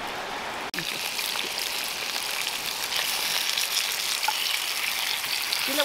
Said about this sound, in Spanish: Le voy a poner una pechuguita aquí a dorar.